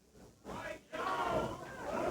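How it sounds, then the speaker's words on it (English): A wrestling crowd cheering for Kevin White during a Memphis match, a loud sustained roar of many voices with a brief dip before swelling again, distant and continuous. "Fans cheering for Kevin White"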